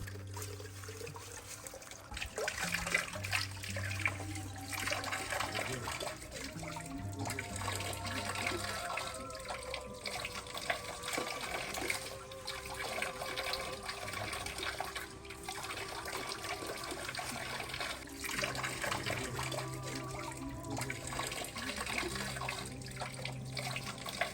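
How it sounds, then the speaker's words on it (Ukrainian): Holy water spring flowing within the grounds of a Greek monastery, a steady running and splashing of water that continues alone throughout at moderate, even loudness. "А це на території монастиря джерело зі святою водичкою."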